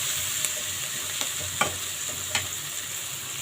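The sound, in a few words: onion and tomato sautéing in pan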